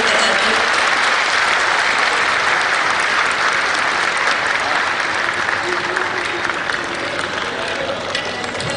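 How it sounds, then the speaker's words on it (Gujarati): A crowd at a public welcome ceremony honouring ministers in Vadodara breaks into sustained, loud applause, a dense wash of clapping that holds steady throughout without a break. "જોરદાર તાળીઓ"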